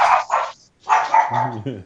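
A yard dog gives a few short, sharp barks, close and loud, followed by a brief whining tone.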